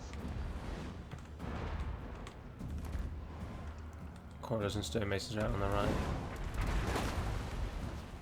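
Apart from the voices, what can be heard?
cannon and mortar fire in the video game Total War: Warhammer II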